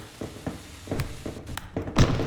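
Bombs thrown by a monster in the horror video game Content Warning land as a series of dull, heavy thuds at a fairly regular pace, close and loud with no talking.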